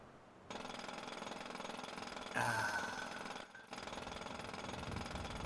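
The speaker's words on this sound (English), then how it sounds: "Soothing. Well, soothing sounds of a jackhammer." Jackhammer pounding in a roleplay video game, a continuous loud rattling drone that runs steadily for several seconds with a brief sharper burst and momentary dropout midway, no talk over it.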